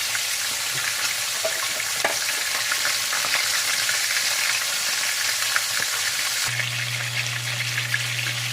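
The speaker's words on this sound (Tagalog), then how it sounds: "Iprito lang muna natin yan." Lapu-lapu fish fries in hot oil with a steady, close crackling sizzle and occasional pops throughout. A low hum enters near the end.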